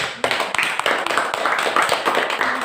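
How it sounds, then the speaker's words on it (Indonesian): A classroom group applauds a student team with a few seconds of steady, moderately close clapping that has some sharper individual claps. "Tepuk tangan dulu untuk kelompok 1."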